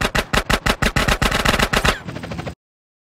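AK-47 automatic fire in the video game GTA San Andreas, a rapid loud stream of about fifteen sharp shots in even rhythm, followed by a brief quieter burst before cutting off abruptly.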